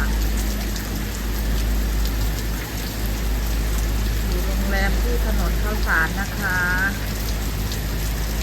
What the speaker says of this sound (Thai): ฝนตกแล้วค่ะ